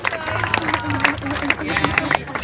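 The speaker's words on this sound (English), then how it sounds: "Oh, give Max a big round of applause." Crowd applause at the Gower Chilli Festival chilli eating contest, brisk clapping mixed with loud hubbub and voices talking throughout.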